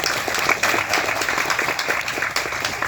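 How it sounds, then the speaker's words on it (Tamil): An audience at a film audio launch breaks into dense, sustained applause, with many hands clapping steadily and close throughout, and no clear speech over it. "இப்போது நான் சொன்ன பிறகு இந்த சபை கைதட்டுவதை பார்த்து"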